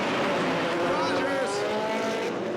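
Nissan drift cars battle at a Formula Drift event at Irwindale, with loud engines roaring and tires squealing under a race commentator's continuous voice.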